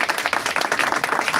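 A church congregation applauding during a thanksgiving service, loud and close, with rapid overlapping hand claps in a quick uneven rhythm throughout.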